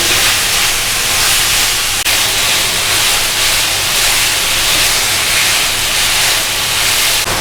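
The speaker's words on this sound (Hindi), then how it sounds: "जितनी देर में हमारा चिकन भून रहा है" Cubed chicken pieces frying lightly on a hot tawa give a loud, steady broadband sizzle and hiss that runs unbroken throughout, close up and without speech.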